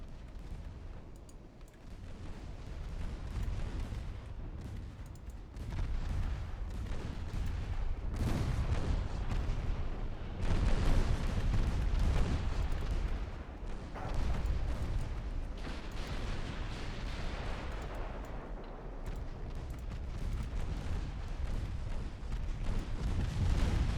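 Battleship secondary guns fire repeatedly in an Ultimate Admiral Dreadnoughts naval battle, a steady stream of booming, rumbling blasts overlapping one another throughout.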